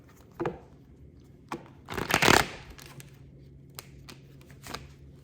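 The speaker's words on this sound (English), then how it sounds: "I need one good shuffle here." Tarot cards being shuffled, a few quick riffles and taps spread across the moment with one longer, louder burst of card shuffling in the middle, close and alone without talk.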